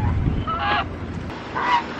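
Geese honking in two bursts, close to the microphone, over steady wind and low rumbling background noise.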